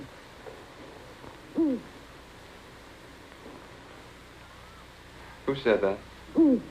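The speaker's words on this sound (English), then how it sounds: "It's our owl, sir." An owl hoots several times in a quiet night setting, the calls moderately close and spaced out, a short double hoot near the middle and another near the end, with faint background hiss.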